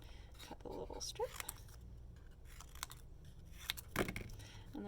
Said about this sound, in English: Okay, cut the little strip.